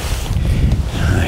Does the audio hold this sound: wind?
yes